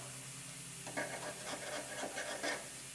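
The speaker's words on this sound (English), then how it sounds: "We'll scrape out all of our foam so we can see the spot welds" Foam is scraped out of a damaged pillar on an Acura RDX A-Spec, with a series of soft, close rasping scrapes in short irregular strokes, quiet and steady.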